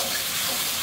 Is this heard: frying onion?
yes